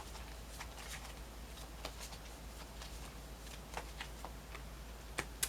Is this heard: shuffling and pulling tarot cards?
yes